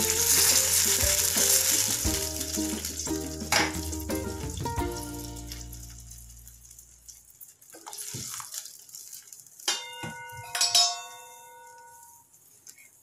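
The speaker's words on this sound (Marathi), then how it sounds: "आता आपण हे गरम केलेलं पाणी हे फोडणीमध्ये सोडूया" Hot water poured into a sizzling tempering for rava upma, a loud rushing sizzle and bubbling that gradually dies down, followed by scattered clinks of a spoon against the pan.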